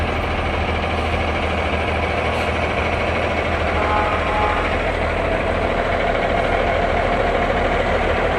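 A fire department truck's engine rumbles loud and close in a small-town parade, a steady heavy idle with knocking vibration running throughout without pause.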